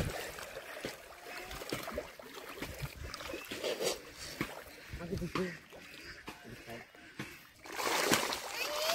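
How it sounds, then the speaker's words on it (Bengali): Fish leap and splash at the water's surface right after feed is thrown in, a busy run of irregular splashes and splatters at close range, with someone talking over much of it. "মাছগুলো কিরম করতে লাফাইতেছে"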